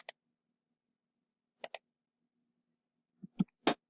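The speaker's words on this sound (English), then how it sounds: "grab my URL by clicking in the URL box" A computer mouse clicks during copying and pasting of a web address: sharp, close clicks, a single one, then a quick pair, then a quicker cluster near the end, with silence between.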